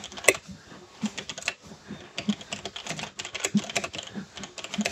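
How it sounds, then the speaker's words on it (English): Fingers tapping a computer keyboard while walking on a WalkingPad desk treadmill, a close, busy patter of uneven keystrokes running throughout with scattered louder clicks. "And I can still type absolutely fine."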